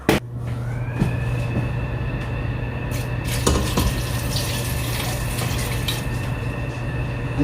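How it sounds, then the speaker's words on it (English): Water being poured into a cooker of washed green beans in a home kitchen: a steady, continuous filling rush that holds evenly for several seconds, close up, with a few small knocks and no talking. "I'm going to go ahead and add me some water."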